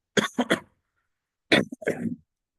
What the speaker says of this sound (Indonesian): Maaf, batuk-batuk.